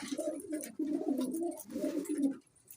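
A pigeon coos nearby in several soft, throaty phrases in a row, fairly quiet and alone.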